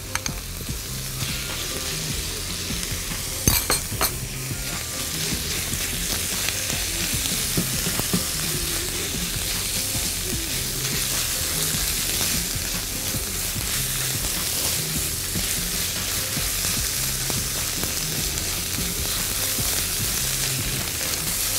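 Spinach sizzles in a pan over onion and garlic, a steady dense crackle and hiss with occasional clinks and scrapes of stirring, continuous and close with no voices.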